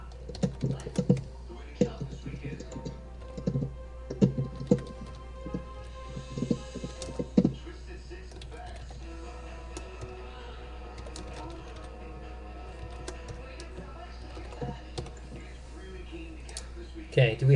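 Computer keyboard keys tapped in irregular bursts while writing C# code, close and fairly quiet, with someone talking over much of it.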